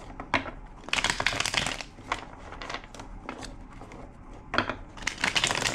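Tarot cards are shuffled by hand in a quiet room, giving close, crisp riffling and crinkling bursts in several separate runs with short pauses between them.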